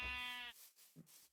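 Sheep bleat in a Minecraft Cobblemon modpack, one long wavering bleat up close followed by a short softer call after a brief gap.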